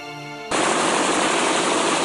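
Sudden burst of rapid gunfire in the Steins;Gate video game, breaking in loudly after a brief musical tone and continuing as a dense, sustained rattle.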